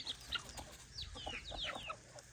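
Farmyard chickens kept alongside ducks cluck and squawk in short, uneven bursts, close by and moderately loud, with several overlapping calls over a quiet background.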